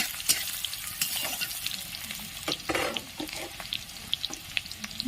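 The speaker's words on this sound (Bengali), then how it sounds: "ভালো করে পেঁয়াজটা ভেজে নিতে হবে" Chopped onion fries in a pan for fish roe curry, a steady close sizzle with scraping stirs and small crackles running throughout.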